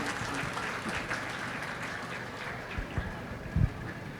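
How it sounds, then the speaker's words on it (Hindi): Applause rings out at a school annual day and award ceremony: a steady, dense wash of clapping from an audience that holds evenly throughout, with a few louder thumps near the end. "दानिश साहब के लिए भाई ज़ोरदार ताली"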